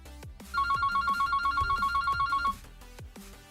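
An outgoing phone call rings with a rapid electronic trill that holds steady for about two seconds and then stops, loud and close, with faint background clatter.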